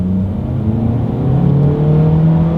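A 2022 Honda HR-V's engine drones steadily in sport mode, rising slightly in pitch as it accelerates through its CVT, a smooth continuous whine without distinct gear shifts, close and fairly loud.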